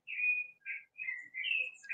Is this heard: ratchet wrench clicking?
no